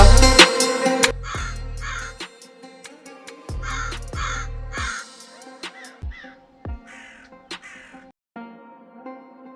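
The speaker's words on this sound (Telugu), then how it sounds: "ఆ కాకిని తోలమ్మా" A crow caws loudly several times in short clusters, close and harsh, interrupted by knocks and thumps, with quieter calls trailing off toward the end.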